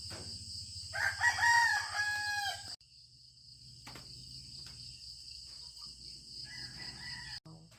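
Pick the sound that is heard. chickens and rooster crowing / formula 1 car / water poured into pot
chickens and rooster crowing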